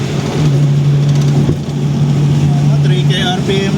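A Nissan Skyline GT-R R32 with its RB26DETT twin-turbo engine runs at low rpm around 3,000 while driving, a steady close rumbling drone with a persistent low hum, as people talk over it inside the cabin.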